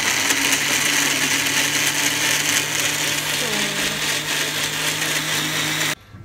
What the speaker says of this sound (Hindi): now it's time to blend it